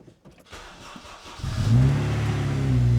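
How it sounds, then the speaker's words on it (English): A Honda Civic Type R cranks briefly and fires up, its engine catching into a steady, loud idle that holds strong with a low rumble. "Hopefully she starts and the battery isn't flat."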